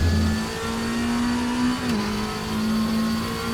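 Lamborghini Temerario GT3 with a 4-liter engine revving in the RaceRoom racing game, a loud, steady high-pitched engine note that holds, dips briefly, then settles again.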